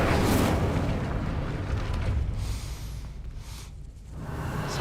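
Incendio fire spell cast in Hogwarts Legacy, a loud, rumbling burst of flame that erupts with a roar, eases, then swells again.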